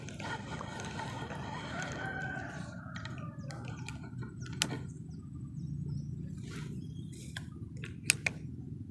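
A rooster crows at a distance over a low background rumble, followed by a few sharp clicks and short sounds.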